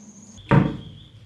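A newly hinged workshop storage cabinet door is swung shut, giving a single sharp wooden knock with a short thud, heard close against a faint background tone.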